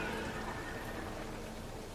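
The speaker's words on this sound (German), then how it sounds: "Oh, es regnet." Steady, soft rain patters in Marvel's Guardians of the Galaxy, a continuous hiss of drops on surfaces with no speech over it.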